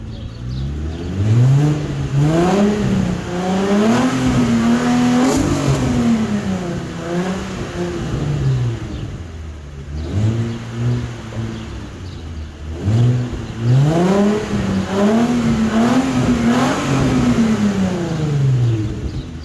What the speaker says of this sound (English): So I'm gonna give y'all a couple little revs real quick.